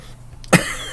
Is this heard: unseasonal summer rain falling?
no